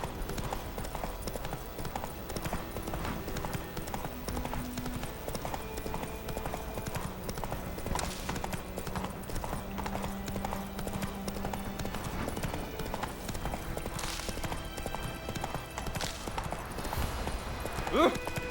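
Roach, the horse in The Witcher 3: Wild Hunt, gallops with a continuous, rapid drumming of hooves under game music and spoken voices.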